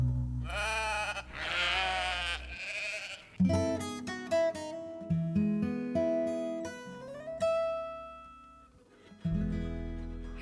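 A sheep bleats loudly several times in long, wavering cries, followed by tonal musical notes with sharp plucked attacks.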